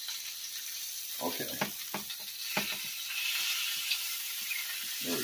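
Sausages sizzle steadily in a frying pan as they are turned, with a constant hiss broken by scraping and clacking from the utensil. A voice speaks briefly.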